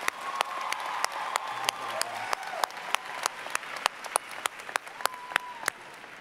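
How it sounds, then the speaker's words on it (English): Steady crowd applause for speakers at a 2017 high school graduation ceremony in a large hall, continuous dense clapping with sharper individual claps standing out, sustained and fairly loud throughout. "Please give them all a big round of applause."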